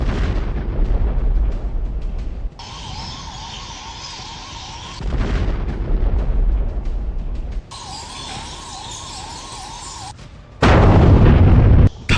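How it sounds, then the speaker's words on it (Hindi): An explosion at an illegal firecracker factory in Bhiwadi, Rajasthan rumbles out, then long stretches of muffled roaring noise with a thin electronic whine, ending in a loud burst of low rumble. "धमाके की ये तस्वीरें दिल दहलाने वाली हैं।"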